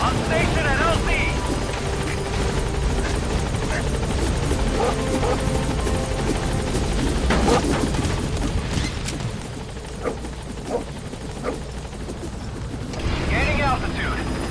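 Helicopter in Metal Gear Solid V arriving at a landing zone, a loud continuous rotor roar and whine with engine rumble that eases slightly, then swells again near the end, while a radio voice talks over it.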